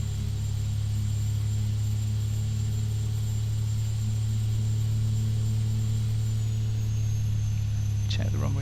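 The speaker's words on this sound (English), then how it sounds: "Really like the engine sounds on this Carenado aircraft as well" Carenado B200 King Air turboprop engines in the X-Plane 11 flight simulator, a loud, steady droning hum with constant tonal whine that shifts slightly in pitch near the end.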